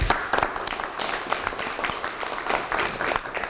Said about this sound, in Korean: 16일 동안 애쓰신 우리 선수들에게 큰 박수를 한번 보내겠습니다.